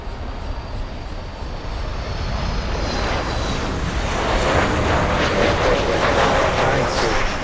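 A Boeing 747 airliner arriving at Miami International Airport, landing north, makes a loud, steady broadband jet roar that swells slightly as it nears and keeps going throughout.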